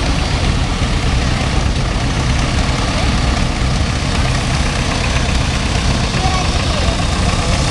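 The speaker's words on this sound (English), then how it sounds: "Here we have a 45 John Deere B" A 1945 John Deere B tractor idles at a parade, its heavy low engine thrum loud, close and continuous, with voices mixed in beneath the steady running.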